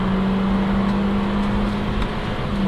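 A 2014 Toyota Corolla drones loudly and steadily as it accelerates hard from a stop on a 0-60 run at high altitude, the engine tone holding close and continuous with no talk.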